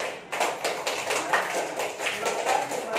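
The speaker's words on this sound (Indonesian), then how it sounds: "Sekali lagi kita beri tepuk tangan." A group clapping hands in applause, a steady patter of many claps at moderate loudness filling the room for a few seconds.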